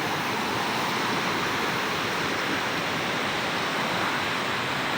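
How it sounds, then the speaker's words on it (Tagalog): Fast-flowing river water rushes loudly and steadily, a dense continuous roar with no pauses. "malakas talaga yung agos ng tubig"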